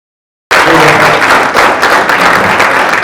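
A standing crowd at a business marketplace livestream event bursts into loud, sustained applause after a short silence, dense clapping continuing steadily to the end.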